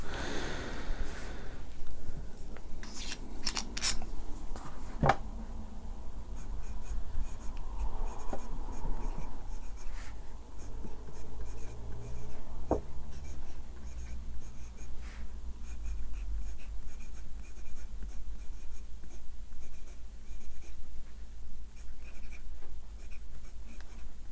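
Broad-nib Namisu Horizon fountain pen writing on a Rhodia paper pad, soft quiet scratching strokes with a few brief taps, close-up and without talk.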